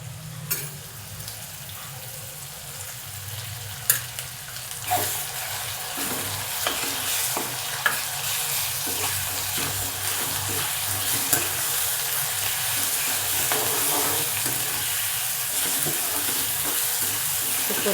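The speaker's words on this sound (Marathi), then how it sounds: "परतून घ्यायचं तेलामध्ये" Onion and ground masala paste sautéing and being stirred in oil for dry mutton, a steady sizzle with scraping stir strokes throughout, close and alone.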